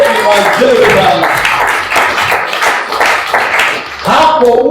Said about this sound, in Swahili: Pigia Yesu makofi mazuri bwana.